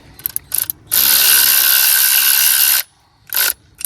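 A ratchet tightens 11 mm bolts on a RotoPax spare tire mount: a few quick clicking bursts, then one long continuous ratcheting run lasting about two seconds, and a final short burst, all close and loud with no talking.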